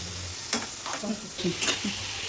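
Greens frying in a hot tempering for a North Karnataka punde gasi, with close sizzling and a few stirring scrapes breaking through steady crackle.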